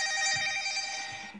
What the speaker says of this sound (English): And I hear a phone ringing.